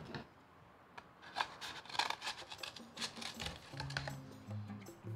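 Scissors cut quietly through cardboard as trees are shaped for a recycled shoebox model, giving soft intermittent snips and rasps close by with no talking.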